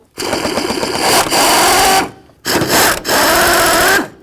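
A power tool drives out the fan shroud mounting bolts on a 1992-2000 Chevy Tahoe, two loud close whirring bursts of about two seconds each, separated by a short pause.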